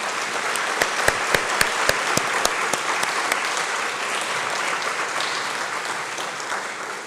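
A hall audience applauds Sister Simona, broad steady clapping that carries on throughout, with a few sharp individual claps standing out near the start.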